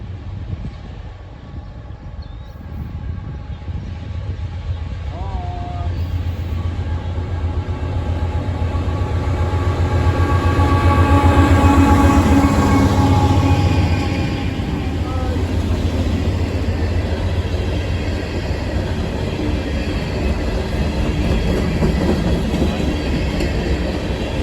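A long Norfolk Southern empty grain train rumbles past nearby in Central Ohio, with heavy continuous roar, rhythmic wheel clatter and a rising then easing swell as the cars roll by.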